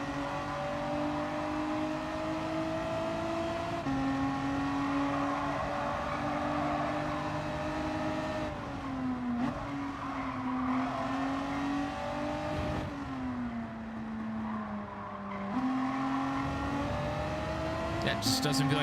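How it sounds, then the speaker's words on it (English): Race car engine in Gran Turismo 7, revving and shifting through gears with tires squealing as they lose traction, continuous and fairly loud throughout the stretch. "You can hear the tires constantly breaking traction."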